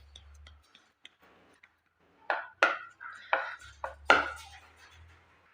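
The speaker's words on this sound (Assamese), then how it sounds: "এইদৰে পিচ পিচকৈ কাটি ল'ম" A knife cutting suji barfi into pieces: a few faint ticks, then a cluster of five or six sharp, close cuts on a board with short pauses between them, in an otherwise quiet room.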